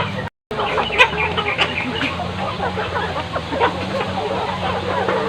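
Hens cluck and fuss continuously in a noisy yard, with voices talking over the steady flock chatter.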